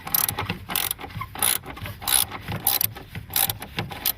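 Socket wrench ratcheting on a rusty battery bolt in a 2012 Kia Soul, a series of close, crisp clicking ratchet strokes in short uneven bursts with no talk.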